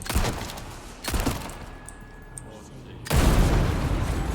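Sudden booming blasts erupt in bursts in the game Resident Evil 4 remake, with a deep rumbling explosion near the end, against quieter background noise.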